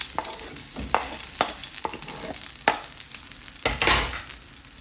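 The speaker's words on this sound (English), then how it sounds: "Give those a quick little saute." Garlic scapes sauté in olive oil in a pan, a continuous close sizzle punctuated by several sharp scraping and stirring strokes, with a louder burst of spattering near the end.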